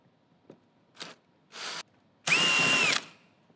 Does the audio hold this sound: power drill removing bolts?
yes